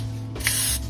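A single short hiss from a can of non-stick cooking spray onto a baking pan, lasting about half a second, close and fairly loud.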